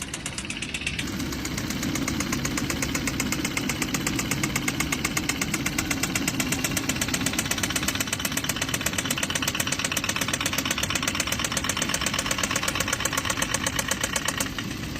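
Kia engine idling with a steady, rapid mechanical knocking that repeats in a regular pattern, loud and close, running continuously without any talk.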